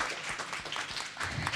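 An audience at an RMIT University design talk applauds the evening's panel, a short, dense burst of clapping from a seated crowd.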